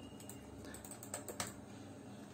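Computer keyboard typing with a few crisp keystrokes, ending in a sharper press of the Enter key, heard near and alone over a low room hum.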